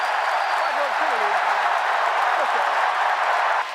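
A loud, dense wash of stadium crowd noise fills an SEC college football game, a steady roar that holds throughout, while a commentator's voice talks over it.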